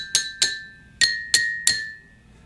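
Five separate bright, ringing taps on musical drinking glasses, evenly spaced, each note decaying quickly, with no voices.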